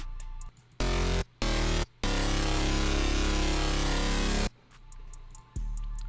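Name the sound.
synth bass without effects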